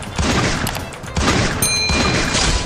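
Loud gunfire from the video game Free Fire bursts out in quick clustered volleys, close and harsh, over a short stretch.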